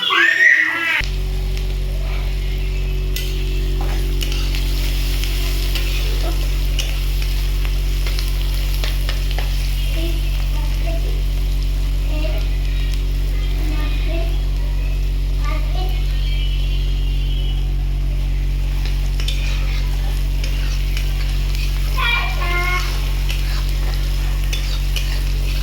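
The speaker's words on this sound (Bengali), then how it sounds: "পেঁয়াজটা ভাজা হচ্ছে।" Salted onions frying in a pan for white biryani, a constant sizzle with scattered spoon scrapes and clinks over a steady low hum, with brief voices in the background.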